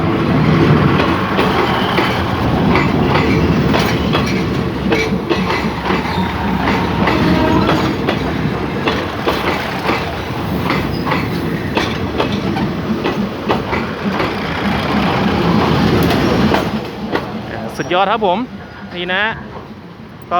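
A diesel railcar rumbles and clatters steadily nearby as it pulls into Mahachai station, wheels clicking over the track, before the noise drops away near the end with a few thin squeals.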